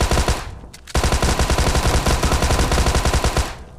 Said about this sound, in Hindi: विकराल साहब जाएंगे थॉमसन लेके और देखते हैं यहाँ क्या होता है